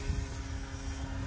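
A Flex Innovations Mamba 10 RC airplane flies in the late evening, its motor a faint, steady distant hum with a few low rumbles, no voices.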